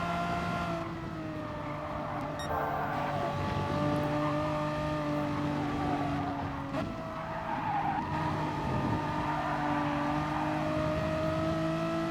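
A Megane Trophy race car at Lago Maggiore East Reversed in Gran Turismo Sport holds a steady high engine whine with shifting tones and tire squeal, while other cars drone nearby throughout.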